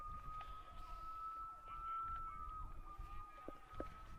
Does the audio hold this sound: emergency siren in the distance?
yes